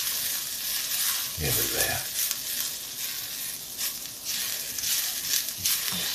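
Golden-brown onions fry in a pan with a steady, moderate sizzle, broken by a brief low clunk partway through, while someone speaks a few words.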